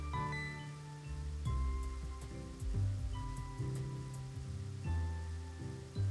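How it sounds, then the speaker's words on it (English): Rain weather effect from Pokemon Black 2 plays as a steady patter of falling drops, layered over looping game music with no talk. "he's already setting up the rain"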